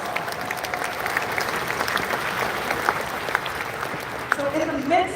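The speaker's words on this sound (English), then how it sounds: "That requires applause." A large audience at a Rotary convention closing ceremony in Taipei applauds, with sustained, even clapping filling the hall and a brief voice rising near the end.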